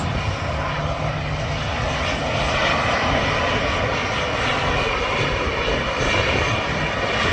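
An EasyJet airliner at Manchester Airport gives a steady, loud jet engine roar that holds throughout with no break, heard from the runway viewing area.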